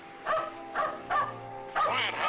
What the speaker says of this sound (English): Quiet, hound. Dog's gonna get us all killed yet.